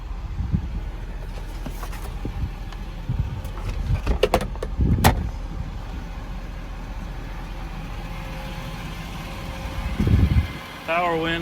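Power windows on a 2012 Ford F550 4x4 mechanics truck whir in short motor bursts, fairly close, with door and cab handling clatter and an idling engine hum underneath.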